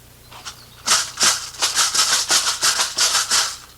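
Dance rattle strapped below the knee shaken in a quick run of about a dozen bright, rhythmic rattling bursts, close and fairly loud, with no talking.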